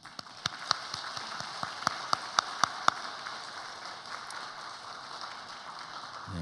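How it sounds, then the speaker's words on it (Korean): A church congregation claps to welcome four visiting missionaries during a Sunday worship service: a handful of sharp, separate claps up front over a steady, distant wash of crowd applause that continues to the end. "한번 일어나 주시면 우리가 박수로 환영하도록 하겠습니다"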